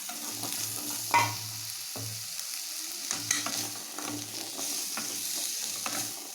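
Boiled, salted chickpeas get stir-fried with masala in a pan, a soft steady sizzle broken by repeated scraping strokes of a spoon, close and fairly quiet.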